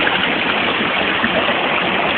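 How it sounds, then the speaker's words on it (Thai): Water rushes steadily at the Sinlaphet waterfall stream, a dense, even, continuous roar close by with no breaks. "เรามาดูน้ำตก ปีนี้ก่อนว่าน้ำตกความใหญ่โตของน้ำตกเป็นอย่างไรบ้าง"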